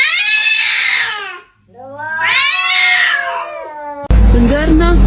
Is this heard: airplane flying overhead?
no